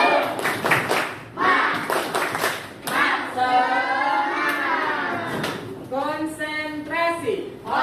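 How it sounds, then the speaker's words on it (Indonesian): A primary school class claps a rhythmic spirit clap together, several bursts of sharp, synchronized hand claps alternating with children chanting in unison in a classroom. "Semuanya tepuk semangat."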